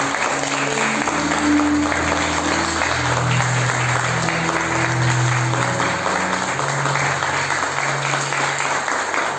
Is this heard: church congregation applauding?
yes